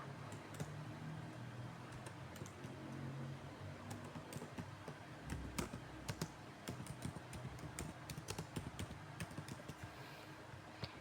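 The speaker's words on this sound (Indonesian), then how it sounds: "lalu kita tinggal mengetik teksnya saja" Steady typing on a computer keyboard, a continuous run of quick clicking keystrokes close up with a few louder taps, and no talking.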